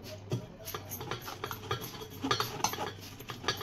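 A spoon presses cooked chana dal puran for jaggery puran poli through a sieve, making repeated close scraping and light metallic clinks in an uneven rhythm, with no talking.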